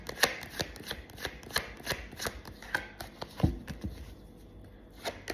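Tarot cards are shuffled by hand in a quick, irregular series of crisp riffling snaps and soft slaps, close and fairly quiet, with no voice over them.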